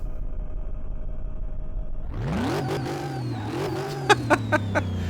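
A supercharged Chevy Corvette C4 engine in Car Mechanic Simulator 2018 revs up from a low hum into a loud, rising roar, followed by several sharp bursts of revving near the end.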